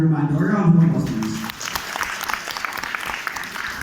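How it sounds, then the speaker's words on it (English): Applause rises for the institute president at a graduation ceremony, starting right as a voice ends over an amplified system, then scattered claps continue for a few seconds. "A round of applause, please"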